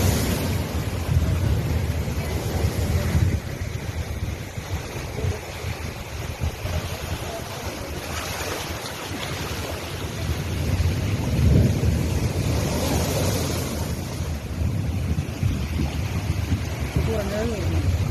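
Floodwater surging and rushing during Cyclone Yaas, a loud, continuous, wind-buffeted roar of churning water with gusts battering the microphone, with people talking now and then.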